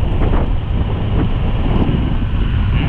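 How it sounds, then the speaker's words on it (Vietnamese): Strong wind blows by the sea on a cold winter day in Quy Nhon, Vietnam, a loud steady roar buffeting the microphone with low rumbling gusts and no talk. "Các bạn thấy gió rất là mạnh nha"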